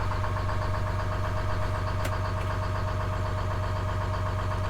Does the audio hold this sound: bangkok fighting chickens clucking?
no